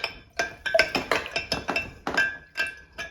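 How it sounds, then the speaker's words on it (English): A spoon clinks repeatedly against a glass or jar while stirring honey into elderberry juice to make a syrup. The strikes are close, bright and irregular, with short scraping strokes between them and no voices. "I'm gonna give it a stir to bring it together and make a syrup"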